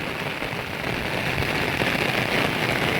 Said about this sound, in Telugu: నేను సతాయించకే వర్షం పడుతుంది